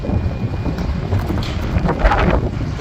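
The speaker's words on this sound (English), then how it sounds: "The wind is out of the south and it's blowing it straight to us." Steady outdoor wind from the south buffets the microphone near a large sawdust pile, a continuous broadband rush with gusty swells and no voices.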